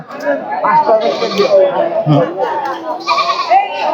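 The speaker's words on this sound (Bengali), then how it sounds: "ওই যে ওইখানে একটা বাচ্চা সহ ছাগল আছে" A nanny goat with her kid bleating amid the chatter of a busy livestock market, a couple of short bleats rising under close talk from several people.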